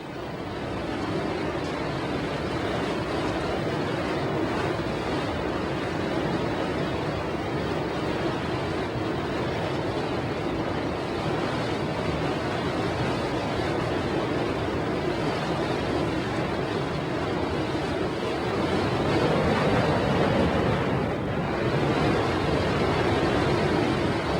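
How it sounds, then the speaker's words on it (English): A 40-foot trimaran drives hard through heavy seas, with a dense, constant rush of breaking water and wind roaring close to the microphone, steady and loud with no voices. "Nick and Hervé are pushing the 40-foot trimaran harder than they've ever done before, sailing it like a dinghy"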